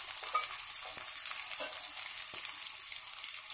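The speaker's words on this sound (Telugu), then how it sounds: "1-2 రెమ్మలు ఫ్రెష్గా ఉన్న కరివేపాకు వేయండి." Fresh curry leaves sizzle and crackle in hot oil for a cauliflower curry, a steady, close frying hiss with small pops and stirring scrapes, no voices.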